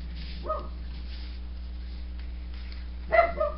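A dog barks toward the door in a quiet room: one muffled bark early on, then a louder burst of two or three barks near the end over a steady low hum.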